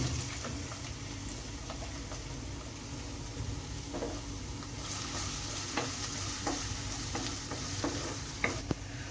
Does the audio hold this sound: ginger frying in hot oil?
yes